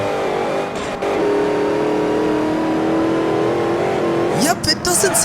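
Car engine from Forza Horizon 1 drones steadily at a loud, even pitch, then rises into a brief rev with crackling bursts near the end; no one speaks over it.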